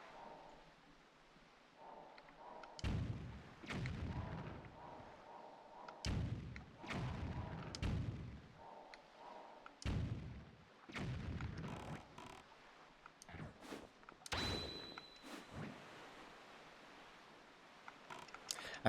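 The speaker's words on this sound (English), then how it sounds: "Pull out my cannon." Cannon blasts in The Legend of Zelda: Wind Waker HD, a series of heavy booming thuds spaced a few seconds apart, each with a short echoing tail over light game music.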